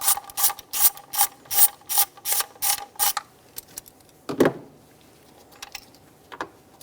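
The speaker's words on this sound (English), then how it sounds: "Remove the bolts." A ratchet loosens the 10mm ignition coil bolts on a 2013-2018 Hyundai Santa Fe 2.4L I4, a rapid run of about ten close, sharp clicking strokes followed by a pause and a few scattered clicks and a creak.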